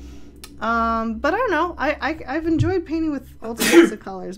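Someone talks steadily and then a loud, sudden sneeze breaks in near the end, followed by a brief resumption of speech during a painting session.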